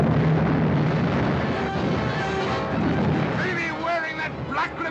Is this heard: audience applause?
no